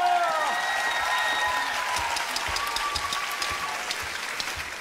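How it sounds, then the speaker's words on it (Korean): A crowd claps steadily, a dense wash of applause that fades slightly over a few seconds, with a voice briefly audible at the start. "박수!"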